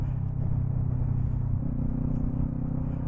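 A Kawasaki Ninja 400 motorcycle riding through city traffic at peak hour, its engine a steady low, close rumble with a smooth hum and faint wind noise throughout, no talking.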